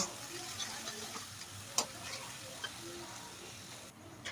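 Spice powders of turmeric, coriander and cumin being stirred and fried together in a pan produce a soft, steady sizzle with a few clicks from the spoon against the pan.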